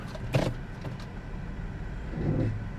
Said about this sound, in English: Engine, it works. It has power.